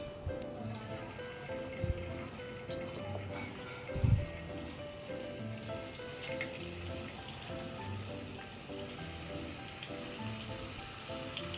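Marinated prawns fry in coconut oil in a frying pan, a faint steady sizzle with soft crackling that carries on evenly, broken by a couple of brief bumps and clatters, without any talking.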